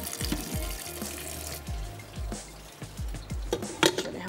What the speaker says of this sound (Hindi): थोड़ा सा ठंडा पानी गुजार लेते हैं ताकि जितना भी स्टार्च है वो निकल जाए।